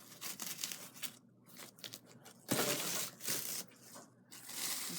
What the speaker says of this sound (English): And I'm going to get some saran wrap.